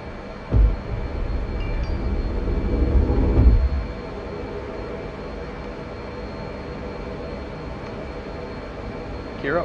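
A carrier-launched jet in a flight simulator game throttles up, giving a loud, broad rumbling roar that swells for about three seconds, then drops to a steady, quieter hum.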